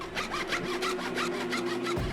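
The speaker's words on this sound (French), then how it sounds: "Il scie un à un les barreaux de sa cellule." A saw cuts through the bars of a prison cell in quick, regular back-and-forth strokes, about eight rasping passes close up, ending with a brief heavier sound.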